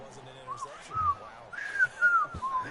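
A person whistles a wavering, sliding tune in short rising and falling phrases at moderate volume, with a voice murmuring faintly underneath.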